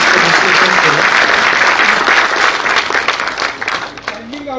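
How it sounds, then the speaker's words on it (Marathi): A crowd gives loud, sustained applause for the speaker, dense clapping that fills the room and then thins toward the end as a voice begins speaking over it. "जोरदार टाळ्या भाऊंसाठी"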